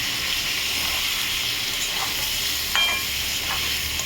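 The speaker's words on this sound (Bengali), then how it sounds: "দিয়ে এটাকে নাড়াচাড়া করবো বেশ কিছুক্ষণ" Prawn curry with chili and turmeric powder sizzles steadily in a pan while a spoon stirs it, adding a few soft scrapes and a brief clink, close and without talk.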